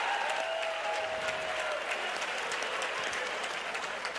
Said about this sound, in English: How about a round of applause for both athletes?